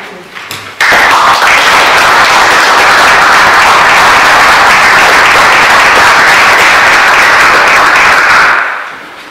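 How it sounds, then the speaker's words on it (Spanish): Loud, dense audience applause at a political assembly in Santander, starting abruptly after a brief moment of noise, holding steady for several seconds, then fading out at the end. "Espero que el aplauso haya sido sincero y de verdad os haya gustado"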